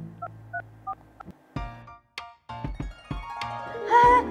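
A telephone keypad dials to call Cika: four short, evenly spaced tone beeps, then a run of sharper clicks and brief tones ending in a louder tone, with no talking.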